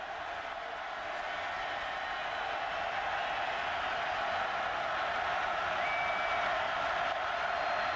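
A college football stadium crowd at a 2006 Tennessee versus South Carolina game roars steadily and loudly on a third down, a broad sustained wash of distant cheering with no break.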